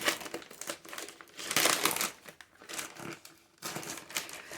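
A taped shipping package is cut open and pulled apart, with loud, close crinkling and tearing of plastic and tape coming in several bursts with short pauses between them.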